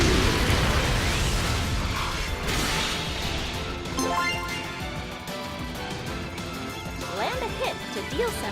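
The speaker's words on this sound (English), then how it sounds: "Try using a burst attack." Burst attack in Pokken Tournament DX, with heavy crashing and explosive impacts at the start, followed by rumbling effects and fainter game sounds.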